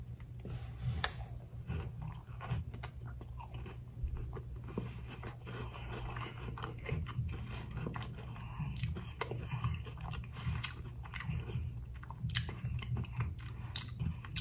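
A giant homemade Samoa cookie with chocolate, coconut and caramel is chewed close to the mic, with soft repeated crunching and wet mouth sounds over a low hum.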